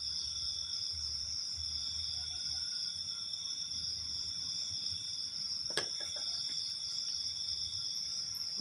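Continuous high cricket chirping at night rings steadily throughout, with a faint low rumble underneath and a brief click midway.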